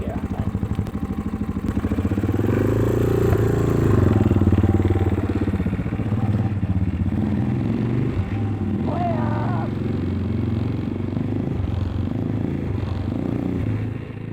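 A dirt bike engine runs steadily at moderate revs as the rider takes a slow loop, its drone close and continuous throughout, with voices talking over it at times.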